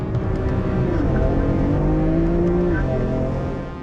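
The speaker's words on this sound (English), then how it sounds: "The BMW M4 has a 3-litre twin-turbo straight-six, and as this one is the competition pack, it has 450 horsepower and 550 Newton meters." BMW M4 Competition with a 3-litre twin-turbo straight-six accelerating hard in a drag race, a loud close engine roar climbing through a gear change and holding steady before easing off.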